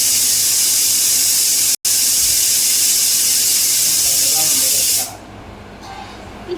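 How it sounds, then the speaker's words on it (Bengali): A pressure cooker with mutton inside gives a loud, sustained steam whistle that stops abruptly near the end, leaving a quieter background with a brief murmur of voice. "তো দুরন্তভাবে সিটি চলে আসছে, সিটিটা একটু তোমাদের দেখালাম।"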